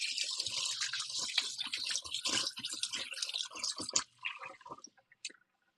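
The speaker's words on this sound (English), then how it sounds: "I'm going to step over here and I'm going to rinse my hands" Tap water runs and splashes as hands are rinsed at a sink, an uneven, close-up spattering with small drips and knocks that fades out near the end.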